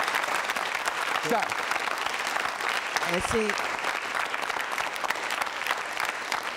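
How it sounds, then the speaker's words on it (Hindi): An audience at a university quiz show on consumer protection claps steadily in a sustained round of applause, with a brief spoken word heard over it. "तालियां जोरों से बजाइए।"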